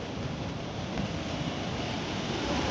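Sea waves at Porbandar Chowpatty beach make a steady, close roar of surf, a continuous broad wash with no distinct breaks over a few seconds.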